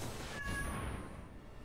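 A house cat meows once, a short faint mew near the start that fades into steady background noise, with no talk.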